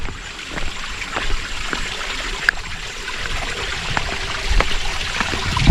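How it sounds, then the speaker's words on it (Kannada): Close, steady burbling and rushing of water flowing over stones, a continuous wash with small splashes and no voices. "ನೋಡ್ರಿ ನೀರು ಹರಿಯೋ ಶಬ್ದ ನೀರು ಹರಿತಾವೆ"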